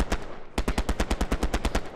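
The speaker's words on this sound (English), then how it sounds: "There's machine guns big time in that bunker you can see sitting back behind it." Machine gun fire in the World War II shooter Hell Let Loose on Utah Beach: a rapid, evenly spaced burst of loud shots, about fifteen in two seconds, with a brief pause after the first few rounds.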